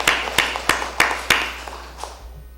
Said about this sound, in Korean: 감사의 박수 드리고